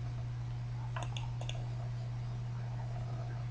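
A couple of faint, crisp mouse clicks on the Finish button of a Dropbox installer on a computer sound in quick succession over a steady low electrical hum.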